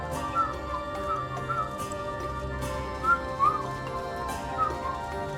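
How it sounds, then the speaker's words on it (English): A person whistles a series of short high notes in a loose, repeating pattern, close and clear, over a low steady background hum. "I know how to whistle normally."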